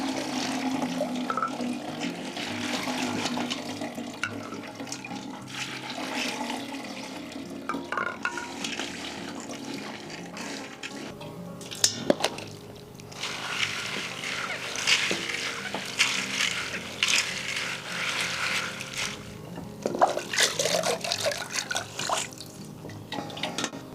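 Food being rinsed under running tap water in a home kitchen during brownie preparation makes a steady, moderate splashing and trickling, with occasional clinks and short bursts of louder spatter.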